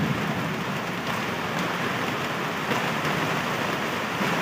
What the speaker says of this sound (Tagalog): Naku, lumakas na naman yung ulan.